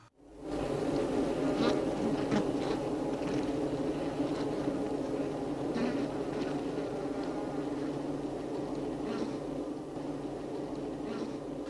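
Honeybees crowding at the entrance of a hive to unload nectar make a dense, continuous buzzing hum, close and steady throughout with no voices.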